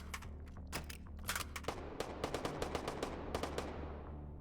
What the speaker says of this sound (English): Shooting a little high there